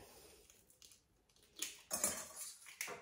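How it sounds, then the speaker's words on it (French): Eggs cracked into a bowl while making a gluten-free yogurt cake, heard as a few close, sharp taps and clinks on the bowl followed by soft wet splats, the loudest knocks coming near the end. "J'ai cassé les œufs et je vais rajouter le sucre."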